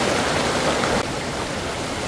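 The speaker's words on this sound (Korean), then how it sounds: "이야, 폭포다, 폭포!" A waterfall pours into a valley stream at Hobakso gorge: a dense, steady rushing roar, loud and close, with no voices over it.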